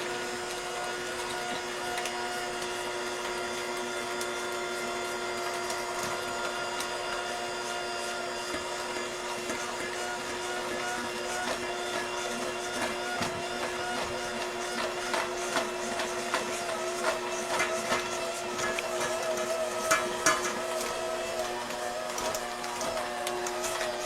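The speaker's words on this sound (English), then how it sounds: "And now we're going to turn our mixer on again, just until the batter is all combined" An electric mixer runs steadily in a bowl of apple fritter bread batter made with Granny Smith apples, giving a continuous motor whir with faint clatter from the beaters against the bowl, close and alone with no talking.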